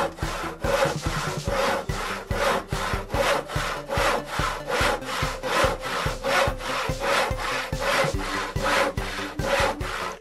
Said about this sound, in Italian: Mastro Toc Toc, prendi la sega!